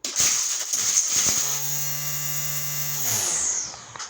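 A Mytek electric lawn edge trimmer motor whirs steadily at close range with a high buzzing whine, then winds down and stops near the end.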